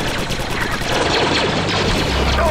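Blaster laser fire in a Star Wars Republic Commando battle against Geonosians, a dense, steady stream of rapid zapping shots running unbroken with no voices.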